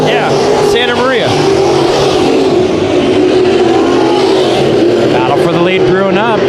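Race cars roar around Bakersfield Speedway, engines droning continuously up close with rising and falling revs as cars pass, while a commentator talks over the racing throughout.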